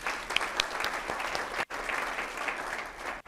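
Audience in a city hall setting applauds steadily at a State of the City address, dense hand clapping throughout with a brief gap midway before it resumes.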